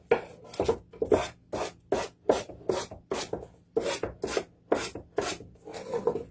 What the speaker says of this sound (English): I'm just sanding that off